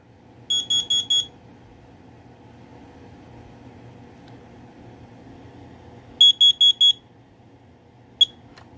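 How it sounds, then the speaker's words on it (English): A Kitty KN-CLB-LP2 smoke alarm gives two bursts of four shrill, rapid test beeps a few seconds apart, then one last short chirp, over a quiet room hum. "This is a Kitty KN-CLB-LP2 smoke alarm"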